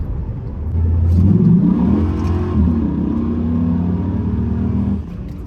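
A car accelerates hard in a full-throttle pull, heard from inside as a steady, loud engine roar that swells and holds for several seconds, then eases off near the end.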